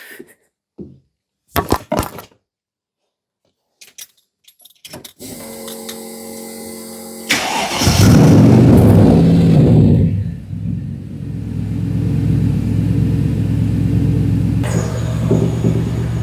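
Mercedes V8 fitted in a Ford Capri cranks after some clicks and clunks, catches with a loud roar and settles into a deep, steady idle with a slight uneven throb, close by.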